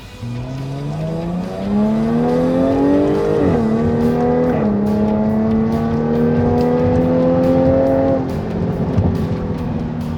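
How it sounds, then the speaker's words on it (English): A supercharged Jaguar F-Type with an 8-speed gearbox accelerating hard, its engine note climbing steadily through several quick upshifts, loud and close with a continuous rising roar. "it's got that supercharger, it's like instantaneous, already bumping through the gears"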